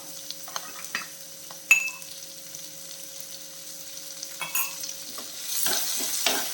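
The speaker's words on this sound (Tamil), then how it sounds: "கோவைக்காய் சேர்த்து வதக்கிடலாம் இந்த கோவைக்காய் வந்து கொஞ்சம் சாஃப்ட் ஆகணும்" Ivy gourd sautés with salt in a pan, heard as sparse, soft stirring clicks and scrapes over a faint, quiet hiss, with a slightly louder sizzle toward the end.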